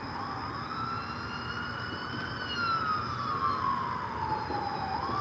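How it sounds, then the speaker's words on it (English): A fire truck siren from a fire station in Ottumwa, Iowa wails in long rising and falling sweeps, heard outdoors at some distance near a railroad station and growing slightly louder as it approaches. "Oh, fire truck."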